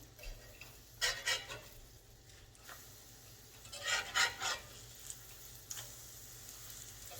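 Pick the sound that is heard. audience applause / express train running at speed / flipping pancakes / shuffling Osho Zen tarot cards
flipping pancakes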